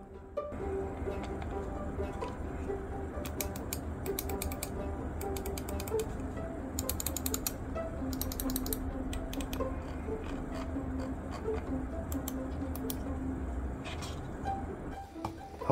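Rapoo VT9 Air wireless gaming mouse clicking in bursts of sharp, rapid clicks grouped in short clusters, with pauses between groups over a steady low background hum, close and fairly quiet.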